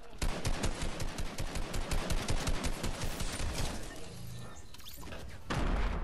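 Rapid bursts of automatic gunfire rattle in a video game firefight, dense and loud for several seconds before thinning out, with a short quieter gap and then another heavy burst at the end.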